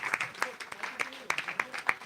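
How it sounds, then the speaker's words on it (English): Scattered, uneven clapping from an audience at a devotional remembrance gathering, with sparse hand claps popping out under voices that talk throughout. "I think we should continue clapping and give them some enthusiasm."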